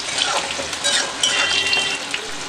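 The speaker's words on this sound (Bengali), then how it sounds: "একটু লবণ দিয়ে আলু ভাজলে আলু তাড়াতাড়ি নরম হয়ে যায়" Potatoes fry with a little salt in hot oil in a covered pan, giving a loud, steady, crackling sizzle that runs unbroken throughout, with no voices.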